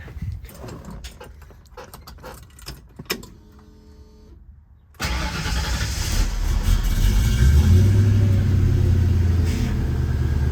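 A 1968 Ford Mustang swapped to a 5.0 V8 cranks over after a new power steering belt is fitted, then catches and settles into a loud, steady idle after several seconds of starter noise and clicks.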